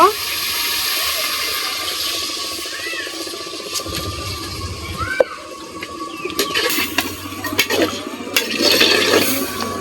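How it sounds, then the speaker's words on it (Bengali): Water is poured into a pan of browned desi chicken curry, giving a splashing, gurgling pour followed by sizzling and a few clanks of utensils, with some talk nearby. "এখন আমি পানি দিয়ে দিব"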